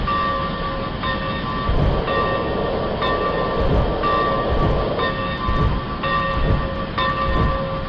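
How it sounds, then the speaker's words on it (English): A train hauls a string of boxcars along the rails, a steady rumbling clatter with a sustained high tonal ring over it and regular rhythmic pulses roughly once per second, loud and close throughout. "Larry coupled up to the boxcars and proceeded to Lakehurst."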